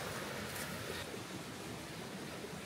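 Creek water rushing beneath a log crossing on a winter trail in the Twin Creeks and Baskins Creek area, a steady broadband wash heard from a few feet above with no voices.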